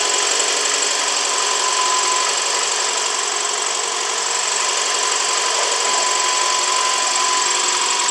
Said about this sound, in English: It does have a little rattle, a little tick noise there.